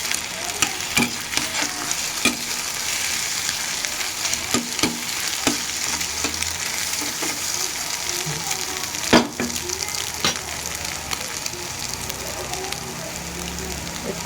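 Salted egg strips fry in a pan before Maggi noodles are added, with a loud, continuous sizzle broken by occasional spatula clicks and scrapes.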